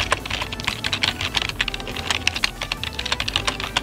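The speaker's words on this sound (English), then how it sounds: "this is some of the keyboards that they use, and it's like a scissor switch mechanism" Typing on an HP scissor-switch keyboard, a quick, irregular stream of crisp, light key clicks close to the listener, with no one speaking.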